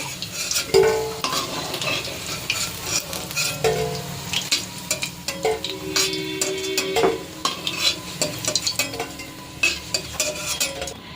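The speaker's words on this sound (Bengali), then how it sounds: "এরকম লাল লাল করে সব বলগুলো ভেজে নেব" Chicken kofta balls frying in hot oil until red, a close sizzle broken by repeated clinks and scrapes of a spoon stirring the pan, with no talk.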